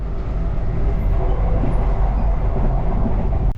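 Steady, loud rumble and clatter of a moving train heard from onboard a rail carriage in Queensland, continuous throughout with no speech.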